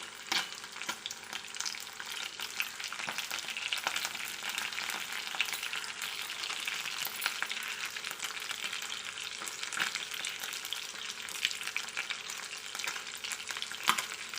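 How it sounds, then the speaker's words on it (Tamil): Fish pieces and curry leaves fry in hot oil, a dense continuous crackling sizzle with sharp pops scattered throughout, close and unbroken. "கருவேப்பிலை தழை போட்டு பொரிக்கும் போது நல்லா வாசனையாக இருக்கும்."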